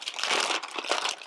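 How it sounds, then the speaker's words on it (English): Paper packaging is crinkled and pulled away from a Spyderco Paramilitary 2 knife box, a brief burst of close, crisp rustling. "Very well wrapped. Lots and lots of paper."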